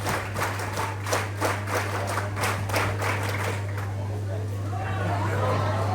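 Cadets clap in scattered, rhythmic bursts at an NCC prize distribution, moderately loud over a steady electrical hum and background chatter.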